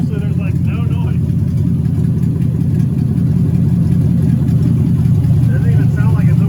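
An LS V8 in a Camaro idles with open headers, a steady, smooth and fairly subdued low rumble that runs unbroken and up close, while a voice talks faintly over it.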